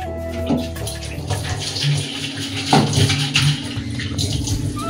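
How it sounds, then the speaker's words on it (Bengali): Tap water runs steadily into two bottles, a continuous close splashing and gurgling rush with small bumps as the bottles shift, no speech. "আমরা জল ভরবো, দুটো বোতল।"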